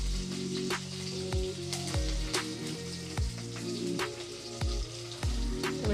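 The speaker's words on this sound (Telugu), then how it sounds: "వేసి వేయించుకోవాలి." Green chilli pieces fry in a pan with a steady, close sizzle and crackle, broken by repeated scraping knocks of a utensil against the pan.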